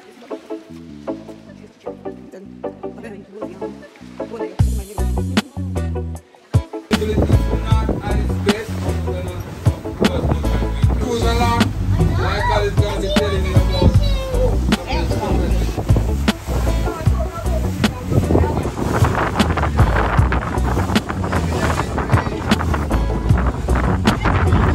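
Wind buffeting the microphone on a beach in Jamaica, with loud, constant low rumble and gusts under people talking for most of the stretch.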